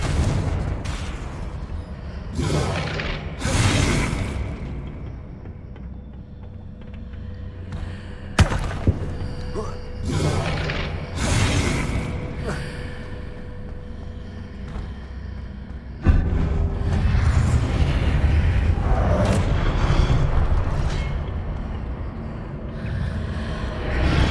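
Repeated Confringo fire-spell blasts from the Hogwarts Legacy video game land as loud, heavy booms and thuds. They hit in irregular bursts with short gaps between them over a rumbling game soundscape.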